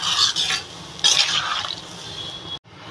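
Coconut milk curry with pointed gourd and drumsticks simmers in a pan, a soft steady bubbling hiss broken by two bursts of close scraping stirs, with a brief cut near the end and no talk.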